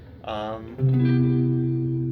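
An electric guitar, a Variax modeling guitar through a Helix, sounds a couple of notes through effects, the second note ringing out sustained with a smooth, processed tone.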